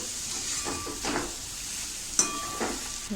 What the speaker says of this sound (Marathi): छानपैकी आपण व्यवस्थित परतून घेऊया.